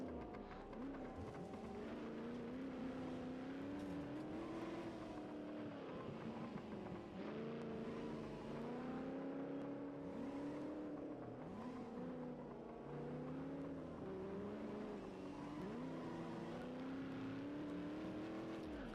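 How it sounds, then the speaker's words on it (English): Rallycross race car with loose wheels in a video game, its engine droning and revving continuously, pitch climbing and dropping through repeated gear changes over a long stretch of steady, moderately loud running. "She can finish with a car with a loose wheel"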